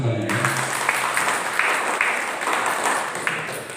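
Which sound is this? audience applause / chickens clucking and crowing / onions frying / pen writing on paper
audience applause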